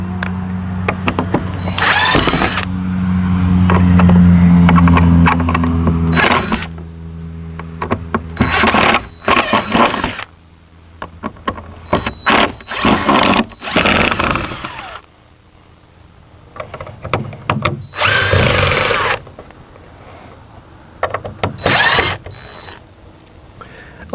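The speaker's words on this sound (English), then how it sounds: "I've got a lot of these held in with screws. So I'm going to have to take all those screws out." Power drill backing screws out of wooden fence pickets outdoors, a long loud whirring run followed by many short, uneven bursts and pauses, close to the microphone.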